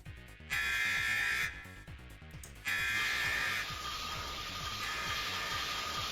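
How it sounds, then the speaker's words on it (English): An electronic alarm blares in a video game, buzzing in on-off bursts over a pulsing, rhythmic music track, then holding steady without stopping. "This time the alarm doesn't stop."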